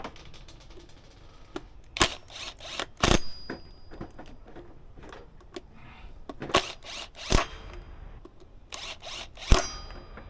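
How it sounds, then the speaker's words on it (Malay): A cordless drill tightens screws while a 265mm brake disc is changed, sounding in several short, loud whirring bursts separated by quiet pauses and faint clicks. "Kita ketatkan pakai cordless lah."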